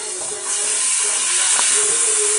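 A ribeye steak sears in olive oil in an oven-proof pan, giving a loud continuous hiss that swells slightly after the first half second and holds steady.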